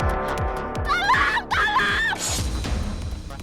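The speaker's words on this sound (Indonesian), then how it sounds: "Lu dengar ada orang teriak-teriak nggak?" A person screams in two rising, wailing bursts, loud and close, over a rhythmic thumping background that fades out afterward.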